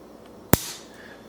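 A single sharp click from the trigger of a Springfield SA-35 Hi-Power pistol being pulled, one crisp snap near the mic in an otherwise quiet room.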